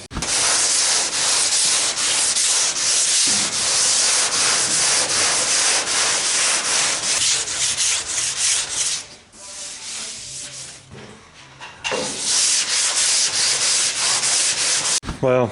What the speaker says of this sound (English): Needs sanded.